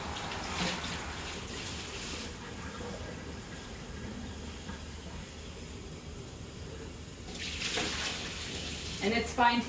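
Tap water runs steadily from a faucet as water is added to homemade Concord grape wine, a continuous close hiss with louder splashy moments at the start and end, and a voice talking over it.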